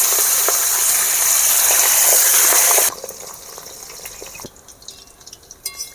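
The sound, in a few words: pabda fish frying in hot oil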